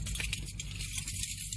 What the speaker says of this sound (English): I have all the keys. Got lots of keys.